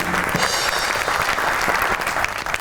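Studio audience of a Pakistani comedy talk show bursts into applause welcoming a guest, a short, loud crowd of clapping hands, busy and continuous.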